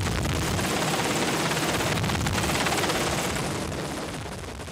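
A military helicopter flies overhead carrying troops fixed beneath a rope ladder during an airborne extraction drill on a gusty day, a loud, continuous rotor roar with a rapid chopping pulse that eases slightly toward the end.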